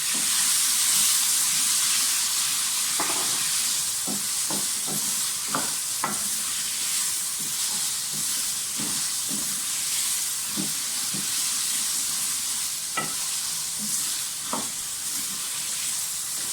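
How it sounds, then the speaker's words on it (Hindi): Potatoes half-frying in oil in a pan for a mixed vegetable dish send up a loud, continuous sizzling hiss, broken by repeated light scrapes and clinks as a spoon stirs them. "तो पहले आलू को थोड़ा सा फ्राई कर लेते हैं, हाफ कुक कर लेते हैं"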